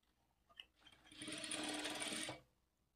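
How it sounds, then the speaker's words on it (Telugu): A sewing machine stitches a blouse, starting after a faint click and running in one steady whirring burst for about a second and a half before stopping, close and clear, with no talk. "ఇప్పుడు ఇక్కడ నుంచి స్టార్ట్ చేసుకొని స్టిచ్ చేసుకోవాలి"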